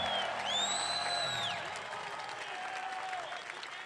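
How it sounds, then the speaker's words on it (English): A protest crowd outdoors cheering and applauding, steady clapping with scattered whoops, while a loud whistle-like tone sweeps up and down over the first half before the applause gradually fades. "Can I get a big cheer for those members?"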